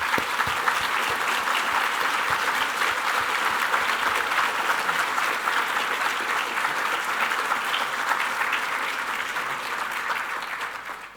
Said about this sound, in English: So let's take a moment to thank them with a round of applause.